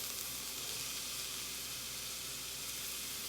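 Onions and garlic sizzle steadily in about two tablespoons of hot olive oil in a pan, a constant soft hiss with no talking.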